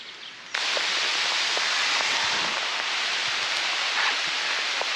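Heavy rain with big drops pours down on cyclists sheltering with their bikes under a tree, a loud, dense hiss that cuts in suddenly and holds steady, with scattered sharper drips and taps close by.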